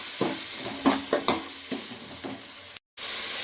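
Masala and yogurt for gongura mutton biryani sizzle in a pot as a spoon scrapes and stirs in several short strokes, then a brief dropout before frying resumes.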